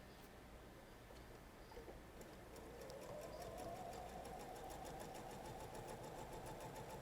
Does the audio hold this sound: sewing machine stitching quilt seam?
yes